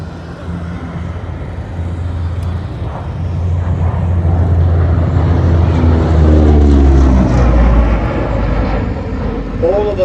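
A fixed-wing aircraft flown by Klaus Plaza and Rolf Schrader approaches at an air show at Scone airport, its engine drone building steadily louder as it nears, under continuous commentary from a public-address announcer.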